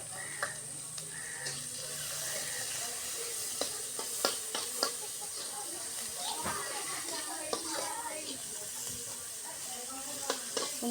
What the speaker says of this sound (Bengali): সুন্দর করে লাল লাল করে ভাজে নিব আগে